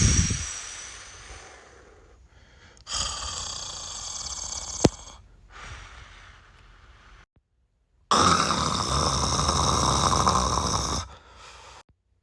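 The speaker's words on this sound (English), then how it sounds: "Stop fucking snoring, damn." A person snores in separate heavy bursts, rough rasping breaths spaced a few seconds apart, with one long loud snore near the end, alone in a quiet room.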